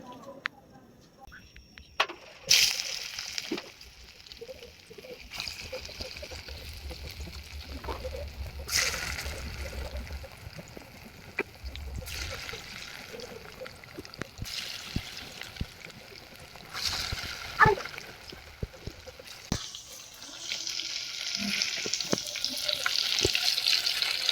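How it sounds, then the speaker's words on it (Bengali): Pangas fish fritters are dropped one by one into hot oil, sizzling and spattering in bursts that swell louder over time, with a voice speaking over the frying. "বড়া ভাজার জন্য তেলটা গরম করে নিয়েছি, এবার আমি এক এক করে বড়াটা ছেড়ে দিব"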